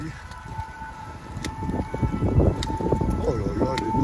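Sirens from fire brigade and police vehicles wail at a steady pitch through street noise outside a hospital in Angers, with wind buffeting the microphone under rainy, blustery weather.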